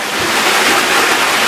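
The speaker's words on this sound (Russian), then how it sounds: "Поток воды неплохой." Water rushes in a steady, loud, unbroken flow inside the drop chamber of an underground river, a close, full roar with no voices.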